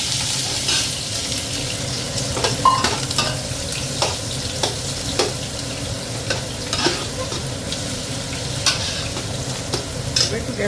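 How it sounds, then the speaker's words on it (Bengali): Onion sizzling and frying steadily in a hot pan of oil already tempered with bay leaf and dried chilli, with continuous crackle and occasional stirring scrapes close by, no voices. "এবার যাবে পেঁয়াজ, পেঁয়াজটা দিয়ে দিলাম।"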